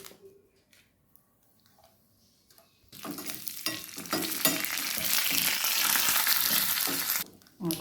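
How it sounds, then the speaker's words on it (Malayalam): Mustard seeds drop into hot oil after a quiet start, followed by green chillies and curry leaves, and a loud, close crackling sizzle breaks out and carries on steadily with faint stirring clinks before cutting off. "കടുക് വറക്കുകയാണ്."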